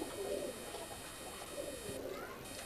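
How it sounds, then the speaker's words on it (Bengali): Madras pigeons cooing softly, a few low repeated coos at close range over a faint steady background hum. "খুব সুন্দর পায়রা আছে এই সাইডে"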